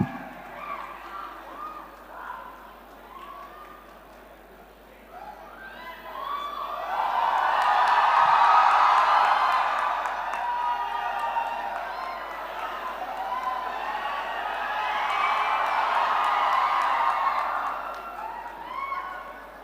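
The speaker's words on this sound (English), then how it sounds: "give him a round of applause, please." A large crowd of young people at IIT Madras cheers, whoops and claps, swelling into two loud sustained waves of applause after a quieter start.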